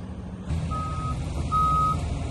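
A fully loaded dump truck carrying about 80,000 pounds backs up on a foundation lift site, its reversing alarm repeating steady, loud beeps over the continuous low rumble of the engine.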